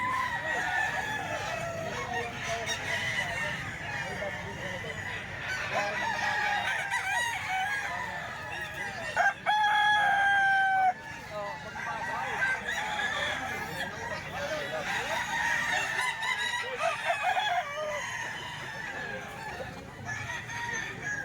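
A young gamecock stag crows outdoors, a clear drawn-out call rising over a busy background of other roosters and fowl clucking and crowing at various distances.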